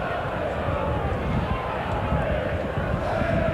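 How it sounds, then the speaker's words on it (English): Low, continuous roar of a huge rugby league crowd at Headingley stadium in Leeds during a cup match against Castleford, with a commentator talking over it. "and a huge crowd here this afternoon,"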